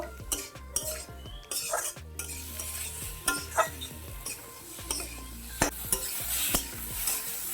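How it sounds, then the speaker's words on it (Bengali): Potatoes stir-fried in oil in a pan, part of a village-style crab recipe: repeated metal scrapes and clacks of a spatula against the pan over a soft sizzle, close up, with no one talking. "আলুগুলো আমি ছেড়ে দেবো আবার কতক্ষণ আমি কষিয়ে নেব"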